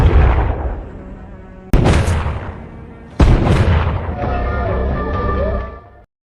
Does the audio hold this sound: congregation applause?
no